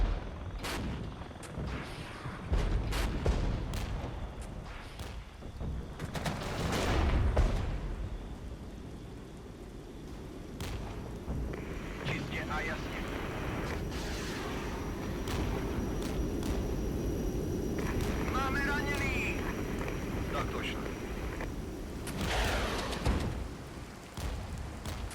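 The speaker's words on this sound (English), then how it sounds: "Mortars are tearing me up as well." Mortar rounds fire and explode in Regiments, a Cold War battle game. Dull distant thuds and rumbling blasts recur over about 25 seconds, with heavier bursts early on and a constant low battlefield rumble underneath.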